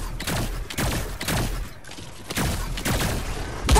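Repeated heavy energy-weapon blasts from a railgun in an online shooter game, several loud bursts in close succession with a dense, crackling tail.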